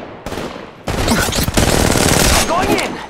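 Rapid automatic gunfire in the video game Apex Legends Mobile: a brief burst, a pause, then loud sustained bursts of close shots in fast succession, with game voices and effects mixed in.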